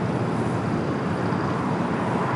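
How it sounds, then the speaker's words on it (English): An Alaska Airlines Boeing 737-900ER departing LAX gives off a steady, even jet roar, loud and unbroken for the whole short stretch. "Next departure here on the south side, Alaska Airlines Flight 798, heading to Seattle, is 737 at 900 ER."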